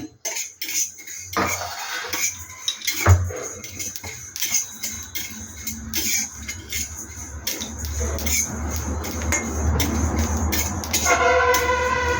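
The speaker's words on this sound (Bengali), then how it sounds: "তো এটা শুকনো খোলায় ভেজে নিচ্ছি" Ground coriander and cumin being dry-roasted in a pan for olive pickle: a spatula repeatedly scraping and clinking against the metal pan, close, with a low hiss, and no talk.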